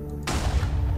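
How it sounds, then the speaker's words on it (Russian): An explosion blasts through a wall in Minecraft: a sudden loud boom after a brief quiet moment, followed by a lingering low rumble that fills the rest of the moment. "Я надеюсь, все бандиты с округи не сбегутся сюда на звук взрыва."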